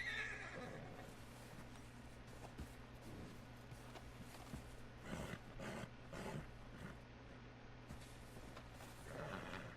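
An agitated horse in Red Dead Redemption 2 lets out a sharp whinny, followed by snorts and hoof clops, fairly close but quiet overall, with brief noises scattered through the stretch.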